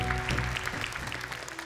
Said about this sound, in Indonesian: Boleh tepuk tangan sekali lagi untuk Nabil Aceh.